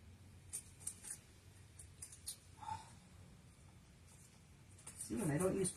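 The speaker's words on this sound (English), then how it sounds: "I'm just going to cut these out off to the side here." Scissors snip through paper card pieces while someone makes Stampin' Up! fun fold cards, faint scattered cuts and handling noises with a louder burst of rustling near the end.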